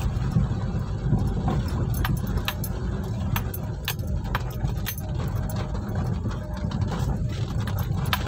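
Off-road vehicle crawling in first gear up a steep, wet, slippery slope, a loud steady engine drone with rattling and knocking from the body and suspension throughout, close and continuous.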